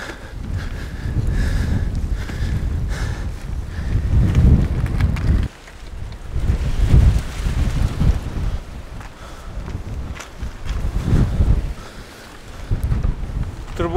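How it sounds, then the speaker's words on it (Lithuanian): Strong wind buffets the microphone outdoors at a windy southernmost point, a loud continuous low rumble that surges and dips throughout with brief lulls, and no one speaking. "O tas vėjas, tai tokia emocija sukuria."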